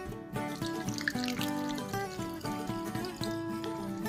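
Jun kombucha being poured into bottles during second fermentation makes a quiet, trickling liquid sound with rising gurgling tones as the bottle fills, faint and close.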